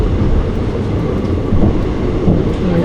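A passenger train on the Shornur–Nilambur line rumbles along loudly and steadily, heard from inside the rear coach, with a constant low roar and faint wheel clatter throughout.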